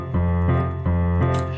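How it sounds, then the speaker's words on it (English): Piano left-hand rhythm for Jingle Bells, a low bass note alternating with the upper two notes of an open chord in a steady, even pattern of four strikes, close and alone. "you're going to hit the bottom note and then those top two notes of the open chord"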